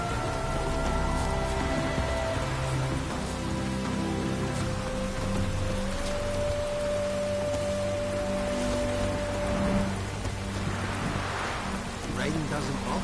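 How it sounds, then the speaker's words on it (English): Steady rain falls throughout, a dense hiss under a layer of music with a sustained tone, and voices murmur faintly in the background. "Rain doesn't bother you, does it?"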